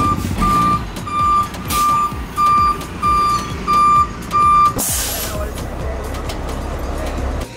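A large bus reverses with a steady series of loud, evenly spaced beeps over a rumbling diesel engine, then a sharp hiss of air brakes, in Nicaragua.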